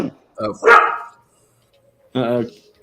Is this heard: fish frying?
no